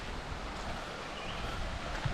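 Water flows continuously from Khlong Lan waterfall at an outdoor camping spot, a soft, steady rushing wash with a faint splash near the end and no talk.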